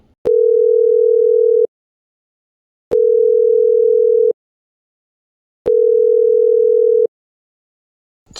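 A phone ringback tone sounds three times, each long steady beep separated by a pause of silence, loud and clear with nobody answering.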